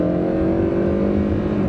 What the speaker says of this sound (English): We'll try a little drag strip out here. Hey, it still burns rubber.